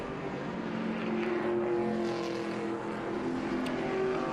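Vintage race cars circling Lime Rock track during a Speed Tour race, a continuous blended engine roar with shifting tones as cars pass, steady and moderately distant.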